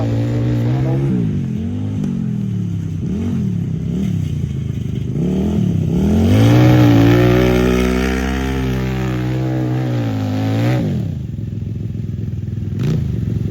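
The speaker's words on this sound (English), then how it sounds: "That's just first gear? That's not even full throttle yet. That's probably full throttle." A homemade mini vehicle's small engine revs hard up close at a backyard-built vehicle event, its pitch climbing and dipping in repeated throttle sweeps before peaking loudly near the middle and easing off.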